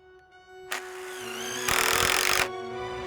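A power drill drives 2.5-inch SD screws into the rim joists of a Trex deck. The motor whines up, then bites in with a louder, harsher grinding burst before easing off, close by.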